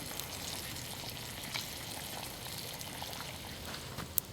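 Bacon sizzles and crackles steadily on a cooking iron over a campfire, a dense continuous frying hiss with occasional sharper pops, close and fairly loud throughout.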